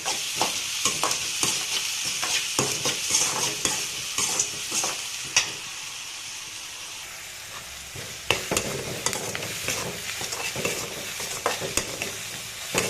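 Onions with a pinch of salt frying in a pan for beetroot palya, a low steady sizzle broken by frequent clattering spatula strokes and stirring scrapes, close and busy, with no talking.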